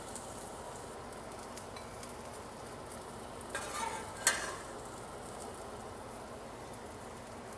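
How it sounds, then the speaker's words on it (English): Cooked okra scooped from a hot pan into a bowl while making a seafood and okra gumbo: a soft steady sizzle throughout, then a brief scraping stir and a sharp spoon clink midway, quiet and close. "start scooping them up and just move them to this bowl here"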